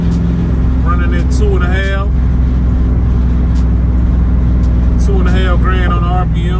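Steady, loud engine and road drone from a vehicle coasting on a highway at about 80 and around 2,500 RPM fills the whole stretch, and someone talks in short bursts over the constant rumble.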